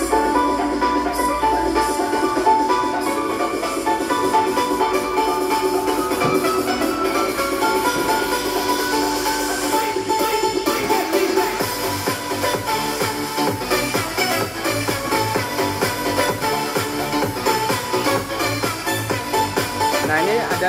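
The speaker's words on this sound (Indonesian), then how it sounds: "Nah ini adalah suara dari TV Samsung dengan seri U8000F seperti ini untuk suaranya." A Samsung U8000F 4K UHD television's built-in speakers play music at maximum volume, a full, continuous mix with steady loudness and no pauses across the whole stretch.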